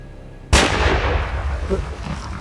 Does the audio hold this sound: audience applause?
no